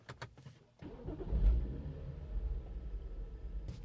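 A 2013 BMW 335i starts up after an ECU tune: a brief starter crank, then the engine catches with a loud rumble that rises and settles into a steady, close idle.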